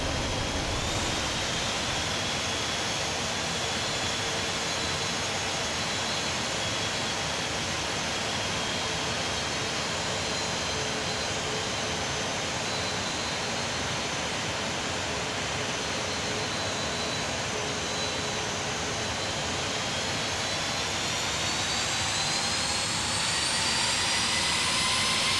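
Boeing 737-800 jet engines roar at takeoff thrust in the Prepar3D v4.4 flight simulator, a steady, loud, dense hiss and rumble that builds slightly toward the end.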